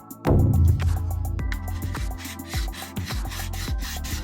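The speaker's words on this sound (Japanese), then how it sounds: "円を描くようにこの面に沿ってねヤスリを動かしていきます" Sandpaper worked over dried putty on a 1/32 Hasegawa Raiden model aircraft kit, giving close, steady rasping strokes in a repeated back-and-forth rhythm after a louder first scrape.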